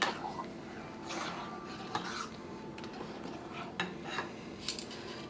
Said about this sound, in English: We mix everything together.